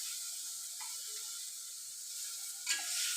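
Ginger garlic paste sizzling in hot oil with browned onions for a mutton curry, a steady close hiss throughout with a brief stirring scrape near the end, no voices.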